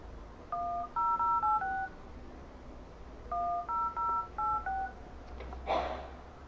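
An Elephone smartphone plays DTMF dialing tones during a call test: two quick bursts of keypad beeps in steady rhythm over a faint hum, then a brief clatter, with no talking.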